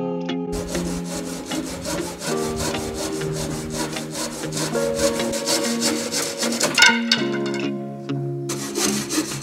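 Wood is hand-sawn for the frame of an aquarium lighting bracket, a steady back-and-forth rasp of close strokes that runs throughout with no talking.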